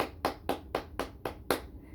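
Steady, rhythmic hand claps, seven sharp even beats about a quarter second apart, close and clear, as part of a children's classroom clapping chant, with no talking over them.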